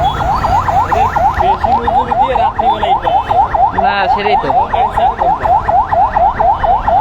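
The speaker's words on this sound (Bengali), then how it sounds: "একটা অ্যাম্বুলেন্স আছে রে অ্যাম্বুলেন্সে আল্লাহ জানে কোনো ইমার্জেন্সি লোক আছে" A loud ambulance siren wails in a rapid, continuous rising-and-falling cycle close by at a roadside bazaar on the Jhenaidah–Magura highway in Bangladesh, with people briefly talking under it.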